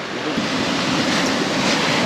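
Ocean surf breaks continuously at an Australian beach, a loud, steady broadband wash of waves with some wind buffeting the microphone and no voices.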